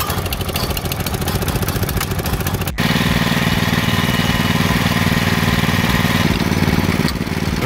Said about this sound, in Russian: мотоблок прогрелся